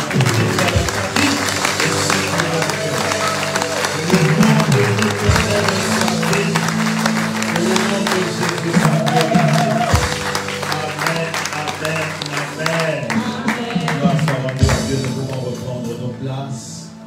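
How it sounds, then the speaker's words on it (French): A church congregation at a French-speaking convention breaks into sustained applause and cheering, a dense crowd roar that continues throughout, mixed with music and voices. "Alors tu l'acclames pour ça."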